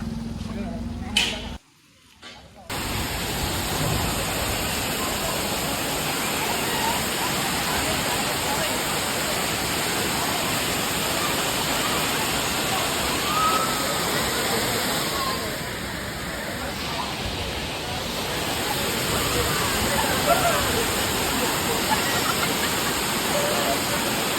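The Kothapalli waterfall near Lambasingi produces a dense, continuous roar of rushing water that fills the scene steadily, with a brief dropout near the start.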